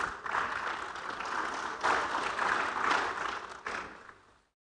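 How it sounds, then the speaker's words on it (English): Applause from a conference audience welcoming a government minister, a dense wash of clapping that swells in waves, peaks around the middle, then fades out. "Shall we welcome him with a big round of applause?"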